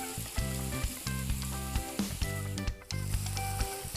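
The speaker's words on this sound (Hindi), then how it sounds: "और अब मैं इसको 2 मिनट के लिए कुक करता रहूँगा, स्पैचुला मिक्स करते करते।" Chicken pieces frying in a pan for white sauce pasta, stirred with a spatula; close, steady sizzle with rhythmic scraping and tapping strokes and a humming tonal background, no talking.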